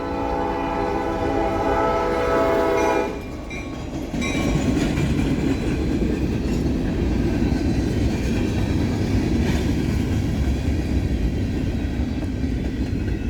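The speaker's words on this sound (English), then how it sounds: "the elusive Norfolk Southern B23, a local that runs between Goshen and Elkhart every day, well, weekdays, with a caboose on it as a shoving platform" A Norfolk Southern local freight train with a caboose rolls past at loud volume. A sustained horn blast sounds for about three seconds, then a steady rumble and the clatter of wheels on rail continue. No voices.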